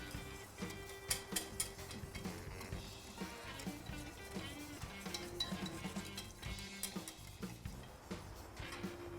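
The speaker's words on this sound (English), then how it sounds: "So we're gonna whisk it in really quickly before the flour starts to clump" Flour roux whisked briskly in a pot for a Thanksgiving meal, a steady run of quick metallic ticks and clinks of whisk against the pot's sides, close and continuous with a busy room hum underneath.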